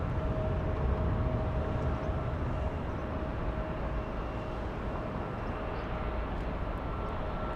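An airliner departing Los Angeles International Airport gives off a steady, broad jet roar with a faint high whine running through it. The noise holds constant at moderate distance with no talk over it.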